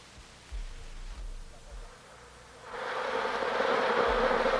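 Bees buzzing in a hive colony, a faint hum with a few low thumps that swells into a louder, denser drone midway and holds steady, with no talking.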